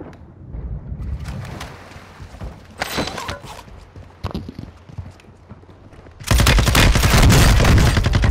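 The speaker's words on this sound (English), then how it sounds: "I'm getting shot at cannot do anything." Rapid automatic gunfire in Call of Duty Warzone on Ashika Island, with scattered shots early on, then a loud, dense sustained burst that dominates the final seconds.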